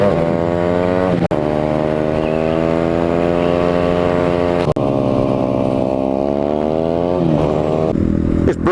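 A Honda CB125R, a compact 125cc motorcycle, rides along with a loud, continuous engine drone that rises and falls with throttle and gear changes. No one speaks.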